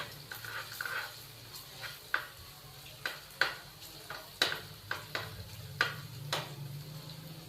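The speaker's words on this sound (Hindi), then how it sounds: "अदरक और लहसुन के पेस्ट को हम 1 मिनट के लिए फ्राई करेंगे।" Ginger garlic paste fries in hot oil, giving a steady soft sizzle broken by irregular sharp clicks and scrapes from stirring in the pan. The sound is fairly quiet and close, with no speech.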